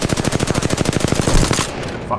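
Rapid automatic gunfire in a battle royale video game, a long, steady burst of closely spaced loud shots lasting over a second and a half before cutting off, with a player briefly cursing near the end.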